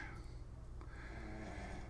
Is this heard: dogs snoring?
yes